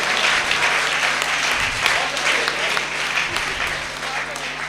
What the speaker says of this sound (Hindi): खुलकर तालियां बजा सकते हैं आप लोग